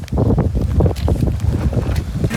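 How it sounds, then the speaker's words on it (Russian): Gusty wind buffets at a high-altitude mountain camp at about 6400 m, coming as loud, uneven rushes and flaps that rise and fall close to the microphone. "Второй лагерь нас встречает ветром."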